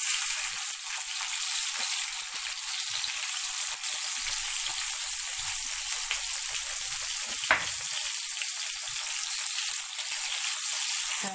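Local Egyptian-style sausage hits a little hot oil in a pan and fries with a steady, close, broadband sizzle that holds evenly throughout, with faint pan noises underneath and no talk.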